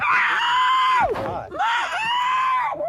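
A woman screams loudly in long, high, strained bursts during a SWAT team arrest, in shoulder pain, with a short break in the middle before the screaming resumes.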